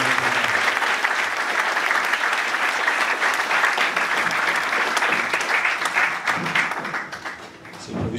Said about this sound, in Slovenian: da si zasluži še en tak aplavz